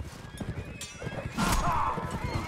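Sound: cavalry horses neighing and galloping in Mount & Blade video game

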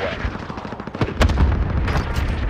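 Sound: airstrike explosions in a video game

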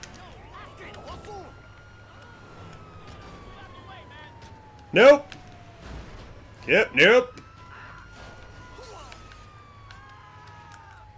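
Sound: ambulance siren in video game GTA 5 Online

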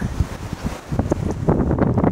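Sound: strong wind on a mountain summit at Seoraksan

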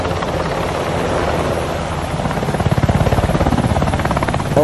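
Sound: toy helicopter

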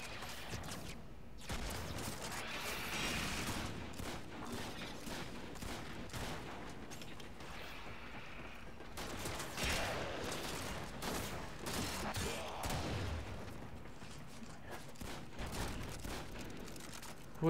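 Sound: gunfire from the Warframe video game

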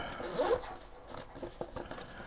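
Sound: backpack pocket zipper being opened

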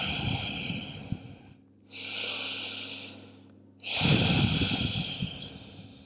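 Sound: inhaling and exhaling through the nose

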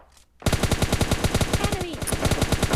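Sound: gunfire in PUBG Mobile Lite video game

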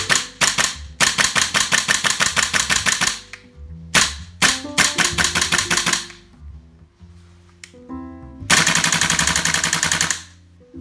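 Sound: GHK M4 gas blowback rifle firing with buffer

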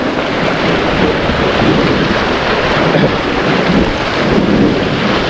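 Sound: wind blowing over the sea on a fishing boat

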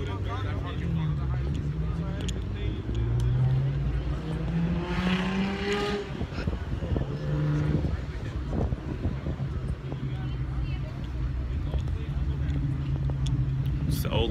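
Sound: cars driving at a car meet

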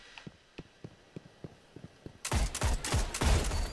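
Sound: gunfire shots in the video game Destiny

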